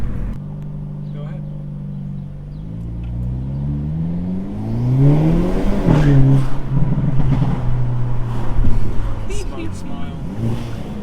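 A modified Hyundai Elantra N accelerates hard. Its engine note climbs through the gears and builds to a loud, rough roar. People talk over the engine throughout.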